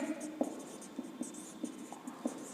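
Chalk or marker writing on a board during a class 10 maths lesson, a quiet series of short scratchy strokes with small pauses, heard faintly and close in an otherwise calm room with no talk.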